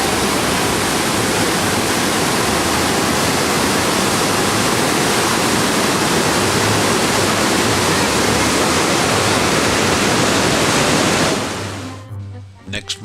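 Dense, roaring waterfall heard from right in the midst of the falls on the Argentine side, a loud continuous broadband wash of pounding water that drops away abruptly near the end.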